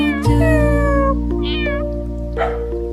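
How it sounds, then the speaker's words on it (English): A single animated cat in a children's phonics rhyme meows loudly and clearly, a drawn-out call followed by a couple of shorter rising mews, close by with no talking. "C for cat, meow meow."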